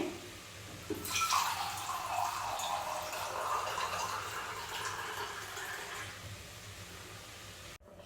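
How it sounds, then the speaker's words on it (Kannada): Water is poured into a mixer jar holding leftover ground masala and then tipped into a horse gram sprout sambar, giving a close, continuous splashing gush that runs for about five seconds before stopping abruptly. "ಜಾರಲ್ಲಿ ಇನ್ನೂ ಸ್ವಲ್ಪ ಮಸಾಲೆ ಇದೆಯಲ್ಲ ಇದಕ್ಕೆ ನೀರು ಹಾಕ್ಕೊಂಡು ಸಾಂಬಾರಿಗೆ ಸೇರಿಸ್ಕೊತೀನಿ"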